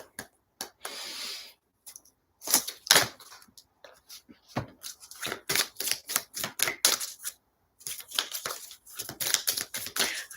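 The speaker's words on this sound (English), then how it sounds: "I need to shuffle them this way first." Rapid crisp riffling and snapping of cards being shuffled, in repeated bursts with brief pauses, close up and fairly loud.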